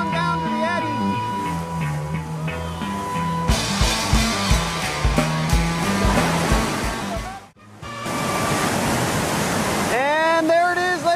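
Sweets Falls on the Gauley River, a 14-foot drop, roars as a loud, continuous rush of whitewater, mixed with music and a brief dropout midway before the dense roar returns.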